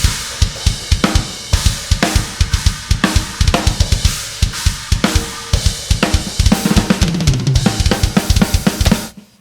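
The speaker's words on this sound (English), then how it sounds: "Let's have a listen to the whole drum kit." A drummer plays the full drum kit at high speed, with rapid, dense kick and snare hits and washing cymbals in a loud, close studio recording and no voices.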